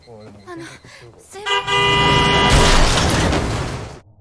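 A box truck in a film scene blasts a long, loud horn that swells into a crashing impact as it hits a man, with talk heard briefly just before.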